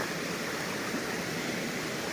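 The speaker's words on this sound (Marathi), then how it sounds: "आपल्या सड्यावरनं खाली येते पाणी" Water streams down from a plateau in the Konkan countryside, producing a steady, unbroken rushing wash that holds an even level throughout with no voices.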